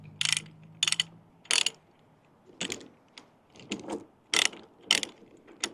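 A ratchet chain binder is cranked down on a chain in a series of sharp, crisp clicking bursts. About eight quick ratchet strokes come in an uneven rhythm with short pauses between them, close by and alone.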